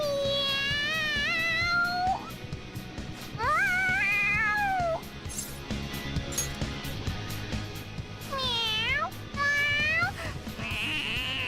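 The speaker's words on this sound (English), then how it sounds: "The cat's acting awfully excited." The talking cat Morgana in the video game Persona 5 meows excitedly in three or four long, bending, high-pitched cries, loud and near, separated by short pauses over background game noise.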